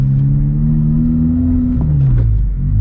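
Engine of a 2019 Honda Civic Type R on a test drive, a steady low droning rev that climbs in pitch and then drops as if through a gear change, heard from inside the cabin with no talking.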